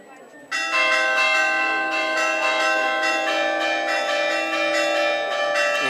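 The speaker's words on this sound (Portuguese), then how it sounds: "Entoam-se os sinos" Church bells ring out loudly after a quiet moment at a Nossa Senhora da Luz festival on Graciosa, a sustained, rich clang of several bells pealing together with repeated strikes.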